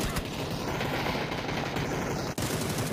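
Rapid bursts of automatic gunfire rattle through a PUBG match, dense overlapping shots continuing for several seconds with a faint commentator voice underneath.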